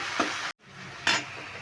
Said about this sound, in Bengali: এবার নুন চিনিটা দিয়েও ভালো করে একটু নেড়ে নিচ্ছি